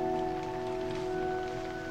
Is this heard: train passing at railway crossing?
no